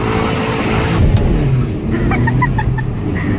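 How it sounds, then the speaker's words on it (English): A Mitsubishi Lancer is revved into a skid at a car meet, its loud engine roaring up and then tire squeal rising over it, with a few short bright chirps near the end. "we're going to do a skid in the Fully Lancer"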